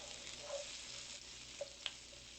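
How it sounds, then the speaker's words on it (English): Onions and garlic sauteing in a pan give a faint, steady sizzle, with a couple of brief stirring clicks near the end. "We're just going to be sauteing these a little bit until our onions get soft."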